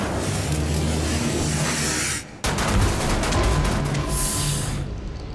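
Rapid gunfire bursts from the video game Wolfenstein: The New Order crackle loud and dense, broken by a brief lull before a second volley and a sharp high-pitched spray.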